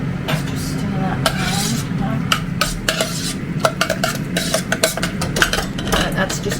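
Food stirred in a pot while cooking a meal, with repeated light scraping and clinking of a utensil against the pot over a steady background hum, close and moderately loud.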